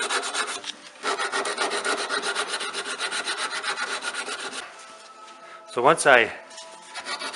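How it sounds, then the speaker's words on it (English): Wooden subwoofer grill edges hand-sanded with 60 grit sandpaper, a close, rhythmic scratchy rasp of repeated strokes, with a brief spoken phrase near the end. "sanding off the edges of the grill"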